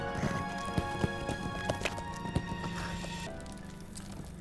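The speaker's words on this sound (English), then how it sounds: "Look at my horse just get up those stairs like they're nothing." Horse hooves clopping up stone stairs in the LOTRO fantasy game: a steady run of close, irregular clip-clop thuds over a dense bed of game music, with a brief tonal gap near the end.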